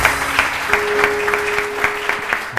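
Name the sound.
studio audience applause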